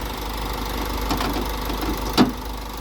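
A 2008 Renault Koleos 2.0 dCi diesel engine idles steadily nearby with a low, even rumble and faint knocking, broken by a brief dull thump near the end.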